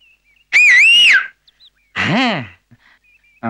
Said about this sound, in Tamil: விசில் அடிக்கணும்னா